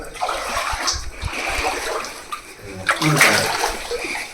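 Cold river water sloshes and splashes as someone wades through it, with faint voices in the background.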